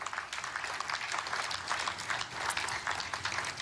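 An audience applauds at the official signing ceremony forming the Gaza peace council, a faint, distant patter of many hands clapping steadily throughout with no voices on top.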